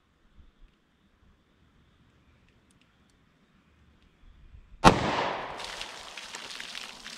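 A single sharp gunshot from a snub-nose revolver firing .327 Federal Magnum Hornady Critical Defense into a ballistic box, loud and close after a quiet stretch, followed by a ringing, decaying tail.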